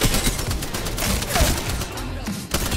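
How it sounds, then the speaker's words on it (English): Gunfire in the video game Apex Legends, rapid overlapping shots and thuds in a dense, noisy firefight, loud and continuous with a few sharper impacts standing out. "That headshot sounds lethal."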